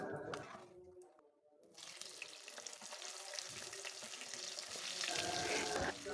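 Chicken pieces and potatoes fry in a pan without any flour coating, giving a steady, fairly loud sizzle with some watery crackle that swells toward the end. It dips briefly early on and no one speaks.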